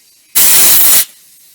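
A single loud hissing blast of compressed air lasting under a second, cutting off sharply into quiet.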